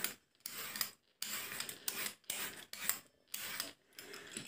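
A knife or peeler scrapes the thick, rough skin off a washed zucchini in a home kitchen, six short rasping strokes with brief pauses between them, close and fairly clear, with no talking.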